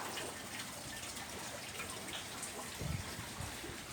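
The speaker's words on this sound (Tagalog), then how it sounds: "Nasa kalakasan ng ulan." Heavy afternoon rain during a storm pours in a dense, steady hiss of water, constant and close with a few heavier splashes, no voices.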